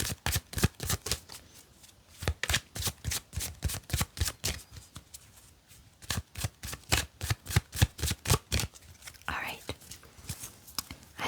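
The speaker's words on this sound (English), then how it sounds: "I've shuffled it a few times." A tarot card deck is shuffled close up in quick, crisp riffling bursts that repeat in a steady rhythm, with a soft whispering voice in a quiet, cozy setting.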